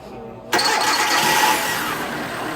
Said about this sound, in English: we're gonna do the key on engine running.